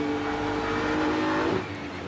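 GT race cars in a 2023 GT World Challenge race at Sebring, their engines making a loud, sustained drone that eases slightly near the end, with no talk.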